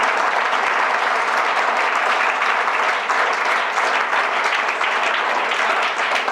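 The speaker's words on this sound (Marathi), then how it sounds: "त्यामुळे स्वतःसाठी एकदा जोरात टाळ्या वाजवा." An audience applauds at an International Yoga Day 2025 event, a dense, steady wash of clapping from many hands that holds at a loud level for several seconds with no break.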